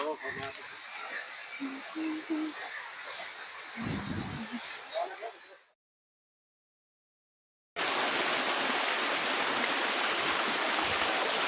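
Rushing stream water at a waterfall, a broad steady roar that cuts out briefly and returns louder and brighter, with people talking over the first part.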